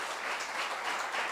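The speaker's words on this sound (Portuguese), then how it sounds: "Vamos aplaudir os nossos irmãos aqui" Applause from an audience at a church youth retreat in Portugal or Brazil, a faint, steady wash of many hands clapping at a distance.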